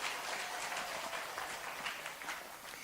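Audience at an Islamic religious gathering breaks into applause, a dense continuous wash of many hands clapping at once, steady and fairly loud from start to end.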